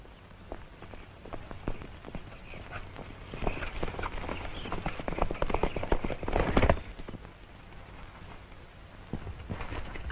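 Horse hooves clop rapidly and rhythmically, growing louder as they approach and then fading slightly, with no talking.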